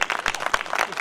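A burst of audience applause at a tribal folk festival, many hands clapping together in a dense, steady patter that fills the space for a moment without any talking.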